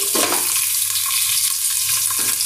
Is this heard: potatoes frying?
yes